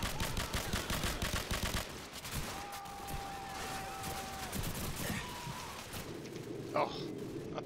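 Rapid bursts of automatic gunfire ring out in a Call of Duty 4: Modern Warfare battle in a bog. The shots come in dense volleys at first, then grow sparser amid background combat noise.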